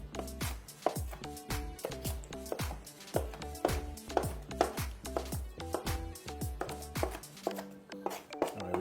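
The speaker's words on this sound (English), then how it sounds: "Alright, so we're going to cut these up" A knife chops charred vegetables for tomato choka on a cutting board in a home kitchen, striking in a steady rapid rhythm of crisp, close thuds that continue throughout.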